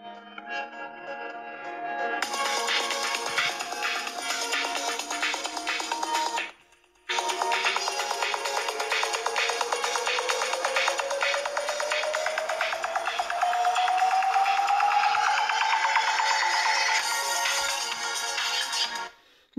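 A ringtone melody plays from the top-edge speaker of a Cubot Pocket phone, a loud, steady tonal tune that briefly stops, resumes and then cuts off, with no talking.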